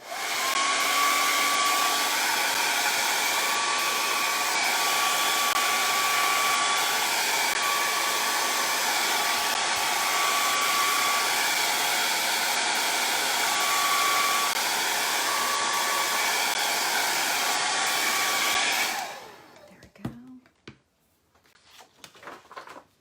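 A hair dryer blows steadily and loudly for about twenty seconds over paste on a wooden Christmas-tree-shaped board, then cuts off, leaving a few soft handling knocks.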